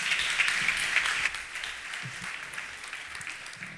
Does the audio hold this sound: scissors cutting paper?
no